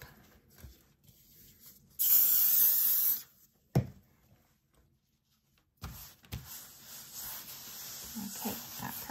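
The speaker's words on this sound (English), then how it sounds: "So what I'm going to do is spray it down and then I'm going to put this right on top." Adhesive sprayed onto a cardboard board while preparing a baby tee for machine embroidery, heard as one loud, steady hiss of about a second and a half near the mic, with quieter handling noises and rustling before and after.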